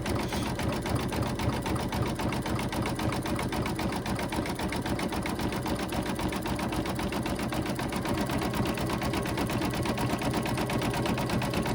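Embroidery sewing machine stitching a design through fabric and batting layers for an Easter runner, with a steady, fast, close mechanical whir and needle patter running evenly and loudly without pause, with no talk.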